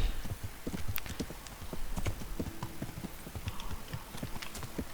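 Horse hooves trotting in the video game Kingdom Come: Deliverance, a quick steady clip-clop rhythm of repeated hoof strikes, close and fairly loud, continuing without pause and with no talk over it.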